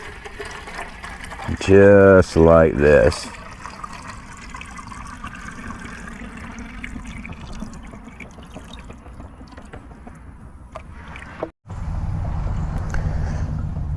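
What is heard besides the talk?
bayou water poured into a gravity water filter, trickling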